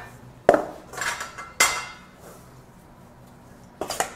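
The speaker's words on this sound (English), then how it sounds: "Mix, mix, mix right away." Mac and cheese is mixed with a utensil in a pan, producing a few sharp metallic clinks and scrapes, three distinct knocks separated by quieter stirring, close by with no talking.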